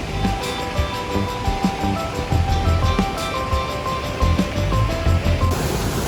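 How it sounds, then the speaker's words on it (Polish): A waterfall on the Four Falls Trail in the Brecon Beacons pours in a steady, broad rush of falling water, heard close and continuous without talk. "Jesteśmy na górze tutaj jednego z tych mniejszych wodospadów, a za nami jest ten główny duży."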